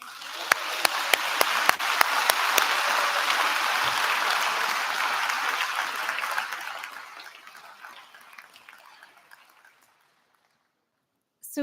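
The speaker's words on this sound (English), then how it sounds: "And we can have a round of applause." Audience applause at a graduation ceremony starts with a few sharp separate claps, builds into a full even wash of clapping, then tapers and fades to silence before a voice begins.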